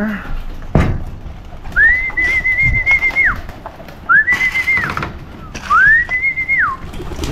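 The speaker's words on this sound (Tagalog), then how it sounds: "Iba dito mga ibon ni Junjun eh" Three drawn-out whistling coos from pigeons rise, hold steady and fall away, spaced a second or so apart, close by with faint background noise.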